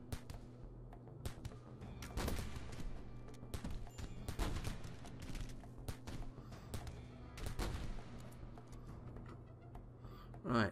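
Gunfire in the colony-building video game RimWorld: a run of sharp shots and short bursts, some loud and clustered, over a steady low background hum, with a voice talking now and then.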